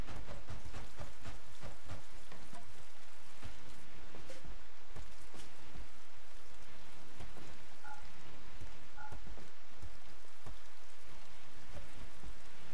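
Rain falls in the video game RimWorld, a steady hiss of rainfall with scattered sharper drop taps throughout.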